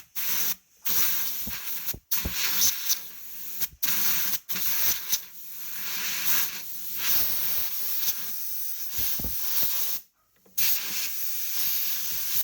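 Compressed air blown through the windscreen washer nozzles of a Subaru Vortex, a series of close hissing bursts of varying length separated by short silent gaps.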